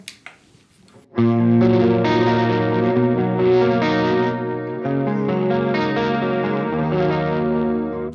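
After a moment of quiet, an electric guitar through a Bogner Helios Eclipse amp on its neutral channel rings out with full sustained chords, clean to lightly driven, changing chord partway through.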